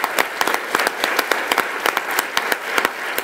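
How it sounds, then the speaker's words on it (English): A crowd applauds a high school drum line at a public event, with distinct sharp claps popping out of a steady wash of clapping, close and fairly loud. "Round of applause for the drum line."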